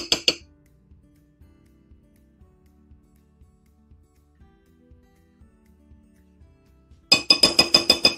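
A utensil mixes cheesy chicken in a glass casserole dish, with soft scraping taps at first and then a quick burst of about eight sharp, bright clinks close by. No one speaks.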